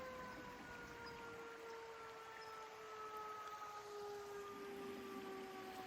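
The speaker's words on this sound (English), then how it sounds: "Sorry, sirens in the background." Distant sirens wail in long, faint wavering tones over a steady background hiss during a rainy spell after flood damage, with no talking.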